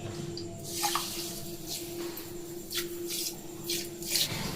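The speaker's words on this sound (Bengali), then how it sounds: "দিয়ে দিচ্ছি 1/2 বাটি জল।" Half a bowl of water being poured into a bowl of sugar, heard as a faint, close trickle and splashing over a steady background hum. No one speaks.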